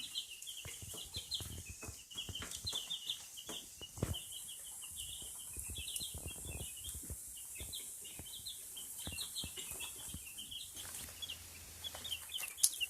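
A brooder of baby chicks peeps continuously, many high thin cheeps overlapping in a busy, fairly faint chorus with occasional soft knocks and rustles nearby.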